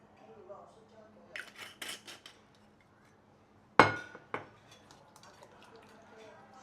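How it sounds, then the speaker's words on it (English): Catfish slices being mixed by hand in a bowl with light soy sauce and Shaoxing wine, soft wet stirring with a few sharp clinks of a utensil against the dish, and a voice speaking faintly beneath. "Mix it out a bit."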